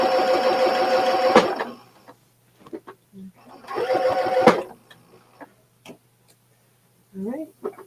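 A sewing machine stitches a pickleball paddle cover made from churn dash practice panels in two rapid mechanical bursts, close up, separated by pauses with handling clicks and brief speech.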